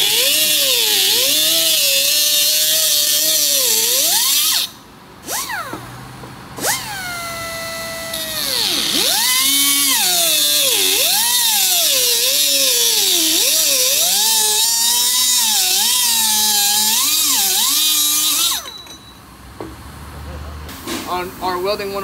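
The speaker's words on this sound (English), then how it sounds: "we are prepping the surface for the weld" A handheld power tool preps a metal surface for welding, its whining motor rising and falling in pitch as it bites into the metal, loud and close, with brief pauses and people talking.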